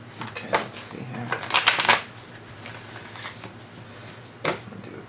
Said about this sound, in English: Let me start shuffling here